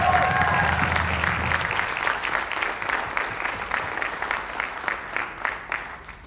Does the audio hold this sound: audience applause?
yes